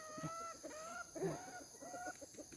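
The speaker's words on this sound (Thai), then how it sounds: "ไก่บ้านยายค่ะ" Domestic chickens feeding at a rural Thai home give a run of close, fairly loud clucks and short calls, several birds overlapping in an uneven rhythm with no talking.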